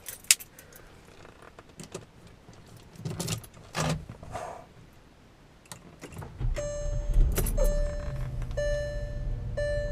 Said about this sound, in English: Let's go ahead and turn the car on.